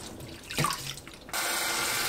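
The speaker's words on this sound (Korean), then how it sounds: "흐르는 물로 3번 헹구고 물에 10분 담가둡니다." Sweet potatoes are rinsed under running tap water in a kitchen. After a brief clunk and some handling noise, the faucet gushes in a steady, close rush for the last second.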